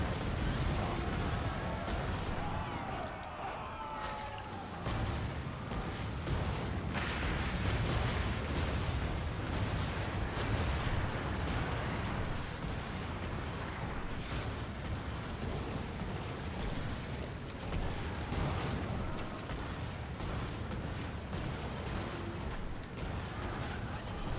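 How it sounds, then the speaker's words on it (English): Ship cannons fire in Skull and Bones, a naval video game, as a dense run of booming shots and crashes over a constant roar of battle noise that stays loud for the whole stretch. "So they may not do as much damage one cannon by themselves, but you do get double up your shots."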